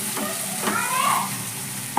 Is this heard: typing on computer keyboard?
no